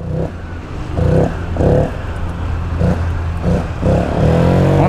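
A Honda PCX scooter running without an air filter and with a washer in the exhaust is revved in about six short, sharp bursts, each rising and dropping back to a rough idle, loud and close.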